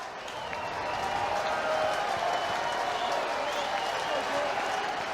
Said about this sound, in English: that'll get this home crowd up and cheering just a little bit louder